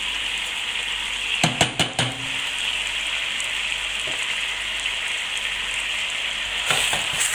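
Tomato purée sizzling as it hits a hot pot of mutton stew with potatoes, a steady frying hiss throughout with a few sharp clinks of the pot near the start and again at the end.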